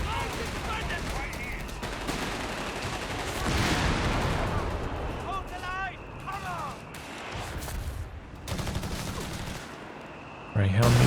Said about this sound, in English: Bit more barrage on the AT gun here